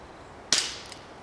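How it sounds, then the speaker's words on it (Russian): A single sharp snap from a Gletcher CLT 1911 airsoft pistol fired at a hanging beer can in an outdoor forest range, followed by a faint tick and quiet decay. "Стреляю также по желтой банке пивной, которая висит прямо по центру."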